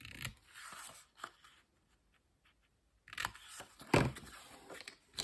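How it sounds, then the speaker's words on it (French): Scissors snipping a bevel cut in gift wrap paper, with a few soft close crisp cuts and paper rustles separated by a quiet gap and ending in a sharper snip. "Et je fais tout de suite ma coupe en biseau."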